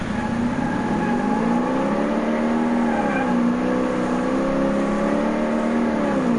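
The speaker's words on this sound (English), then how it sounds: "this motor in the car sounds almost, I think, exactly the same as all the other cars" A car engine in the video game Car Mechanic Simulator hums steadily, its pitch dipping and then climbing again as it revs up smoothly, close and unbroken throughout.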